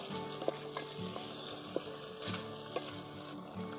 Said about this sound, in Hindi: अब इसको चलाएंगे बढ़िया से